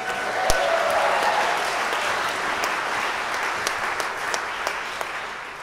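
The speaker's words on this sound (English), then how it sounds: "if you want to clap for all these years, that's totally cool too" Alumni at a 2022 reunion assembly applaud as class years are announced, a broad, sustained wash of clapping from a large hall audience that slowly fades, with a few sharper individual claps standing out.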